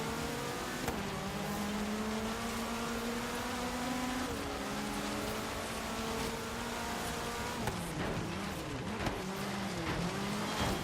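Race car engine in the racing video game Forza Horizon 3, on a snowy mountain course, revving loud and continuous with rising and falling pitch through gear changes, with occasional tire squeal.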